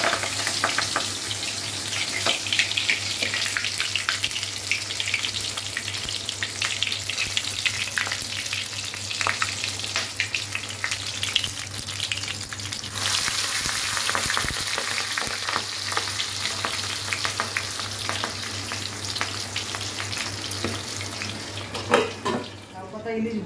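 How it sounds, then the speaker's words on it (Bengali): Hilsa fish wrapped in bottle gourd leaves fries in a pan with a strong, steady sizzle and crackle that runs close and loud throughout, with occasional scraping of stirring and a brief clink of cookware near the end. "লাউ পাতা ইলিশ ভাজা হয়ে গেল"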